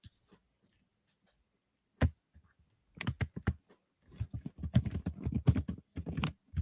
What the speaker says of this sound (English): You know we can hear you typing